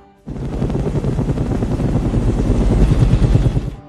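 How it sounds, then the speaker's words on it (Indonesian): A loud, continuous helicopter roar with steady rotor chop as it takes off, starting abruptly and holding strong throughout, close and powerful. "Helikopter telah lepas landas dan sedang dalam perjalanan."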